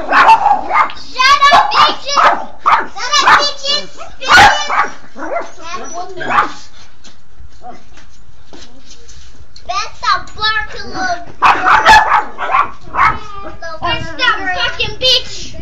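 A big dog barks in short repeated bursts close by, mixed with someone talking and shouting over and between the barks.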